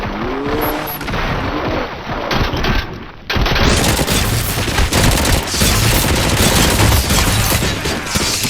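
Dense gunfire volleys rattle nonstop in RoboCop: Rogue City, a loud continuous barrage of overlapping shots and bursts with booming impacts, after a short quieter stretch at the start.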